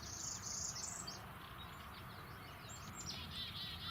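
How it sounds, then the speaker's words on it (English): A northern parula warbler sings thin, high buzzy phrases that rise in short bursts, faint against a constant outdoor hum of insects. "One other notable warbler we came across this week was the northern parula."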